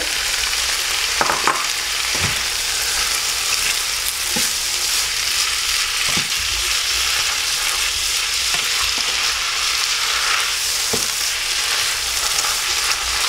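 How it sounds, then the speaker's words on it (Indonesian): Tofu frying in hot oil makes a steady, dense sizzle that runs unbroken throughout, with occasional soft knocks of a utensil stirring in the pan, close up and with no voices. "Masukkan minyak, masukkan tahu"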